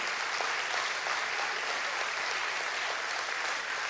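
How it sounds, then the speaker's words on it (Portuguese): A church congregation at a worship service applauds in a dense, even roar of many hands, steady and unbroken throughout at moderate distance. "Então eu quero que você aplauda mais forte o Senhor que governa a sua vida."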